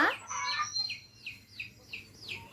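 High, thin peeping calls of chicks repeat in a quick series of short chirps, fairly close and clear, with no talking.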